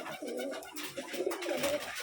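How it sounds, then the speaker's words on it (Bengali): Pigeons with large feathered feet coo steadily at a Rajshahi loft, several soft overlapping calls rising and falling close by over a low background murmur. "দেখুন কত বড় পায়ের ফিদার একটা কবুতর"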